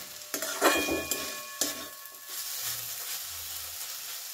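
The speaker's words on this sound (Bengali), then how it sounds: "এবারে আমি গ্যাসের ফ্লেমটাকে মিডিয়ামে রেখে আর একটু নাড়াচাড়া করে নেব।" Banana stem is stirred and fried in a pan over a medium gas flame: a spatula scrapes and clinks against the pan in a few quick strokes while a soft, steady sizzle continues underneath.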